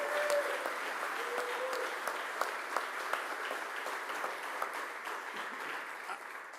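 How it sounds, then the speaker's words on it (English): Steady applause from a large political rally audience, sustained and even throughout with a few brief whoops and cheers rising above the clapping. "Give a round of applause for Sam T."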